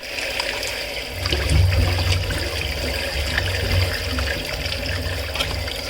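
Indian gooseberries (amla) being washed in water, a steady running and sloshing wash of water that swells slightly midway, close and continuous with no talking.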